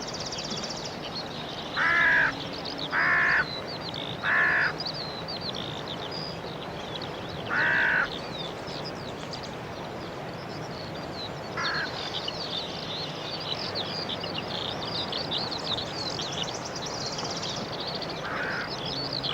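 Crows caw in pursuit of a buzzard that has seized a rabbit, giving several short harsh calls over steady outdoor background noise, a tight cluster of three early on and then scattered single caws, some more distant.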